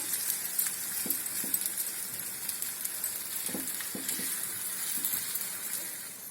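Mango pieces cooking in oil with salt for mango thokku pickle sizzle and fry steadily, with occasional soft clinks and stirring sounds over a constant hiss.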